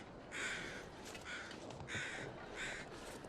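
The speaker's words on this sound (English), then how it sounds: "I do hear the crows." Crows caw in a faint, distant outdoor wilderness scene in The Long Dark survival game, four harsh calls spaced in an uneven rhythm over a quiet windy background.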